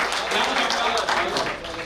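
An audience at a patriotic Kavi Sammelan poetry gathering at Pratap Gaurav Kendra claps steadily, a dense wash of many hands filling the hall, with a voice faintly carrying underneath.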